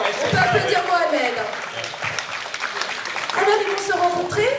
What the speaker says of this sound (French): On peut applaudir Mohamed.